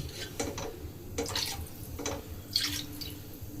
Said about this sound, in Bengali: একটু বেশি করে জল দিতে হবে, কারণ যে আমি কোপ্তাগুলো দেবো না, ওর মধ্যে জলটা পুরো টেনে নেবে ঝোল